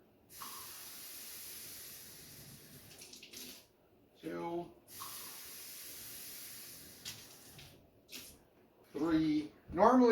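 Water pours into a mixing bowl with a soft hiss in a few separate bursts, fairly quiet and close, with a voice speaking briefly near the end.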